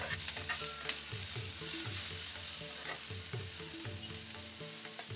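Chopped tomatoes hiss and sizzle in a frying masala for a dhaba-style chicken gravy, a dense steady crackle with stirring scrapes, close and uninterrupted.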